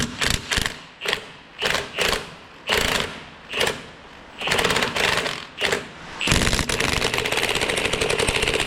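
Bolts being undone on the transmission of a 1956 oval-window VW Beetle, a rapid ratcheting of a power tool in short bursts and then a longer sustained run, close and loud.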